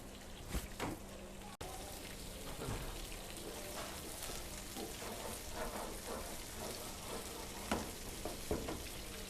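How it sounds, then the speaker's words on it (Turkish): Steady crackling sizzle of whiting fish frying in hot oil in a pan, close and continuous, with scattered pops throughout. "Diğer tarafını da kızartacağız ve tavamızdan alacağız."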